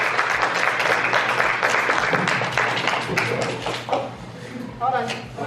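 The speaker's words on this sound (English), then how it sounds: "Please give our keynote speaker a round of applause" A brain health summit audience claps for a keynote speaker in a dense, sustained burst that gradually thins out, with a few scattered claps and faint voices near the end.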